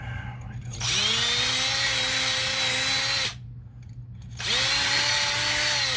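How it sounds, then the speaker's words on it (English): A power sander grinds burrs off a homemade metal fender-eliminator bracket for a Kawasaki Z125 Pro, running loud and steady in two long passes with a short break between them. "I'm real quick going to run this across the sander just to get these burrs off the back."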